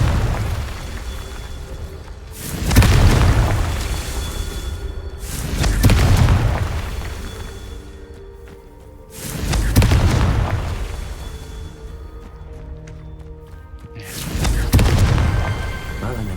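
Confringo explosion spells cast in the video game Hogwarts Legacy: four heavy, booming blasts spaced a few seconds apart, each swelling loudly and decaying with a rumbling tail, with faint game ambience between them.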